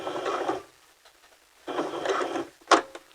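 Sewing machine back stitching, two short bursts of rapid mechanical whirring separated by a pause, then a sharp clunk of the mechanism, close and fairly loud.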